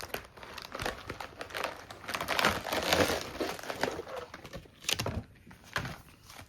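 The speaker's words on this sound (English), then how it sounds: "Get rid of that saran wrap" Steady crinkling and rustling of plastic wrap being pulled and balled up, close and fairly loud throughout, with occasional sharper crackles.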